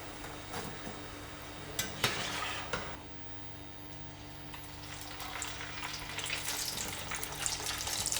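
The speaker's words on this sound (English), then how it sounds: "I'm just using a slotted spoon to very carefully lower them into the hot oil" Chips lowered into hot oil at 140 degrees Celsius fry with a soft, steady sizzle and bubbling. A few clinks of a slotted spoon come early on, and the frying gets a bit livelier toward the end.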